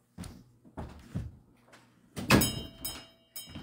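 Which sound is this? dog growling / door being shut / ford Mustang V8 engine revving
door being shut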